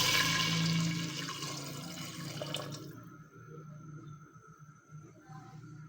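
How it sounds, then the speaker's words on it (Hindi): Water poured into a rosh cooking pot while making Peshawari namkeen rosh, a steady close splashing rush that stops about halfway through, leaving faint kitchen noise. "पानी डाल देंगे।"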